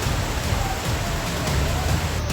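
Heavy rain pours down on the streets of Junagadh as a steady, dense wash of noise with a constant roar that holds at the same loudness the whole time, and no voices are heard.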